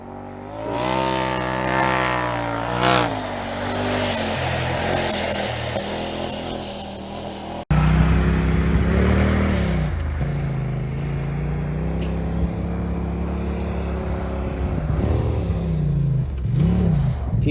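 Polaris Turbo S side-by-side engine revs hard and steadily, its pitch rising and falling in sweeps as a kid drives it, loud and close throughout with a brief cut partway.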